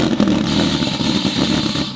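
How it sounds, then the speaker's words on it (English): Subaru WRX STI with an EG33 engine running with a slipping belt, giving a sustained loud squealing whine over a rough, clattering engine drone, close by. "the belt was slipping"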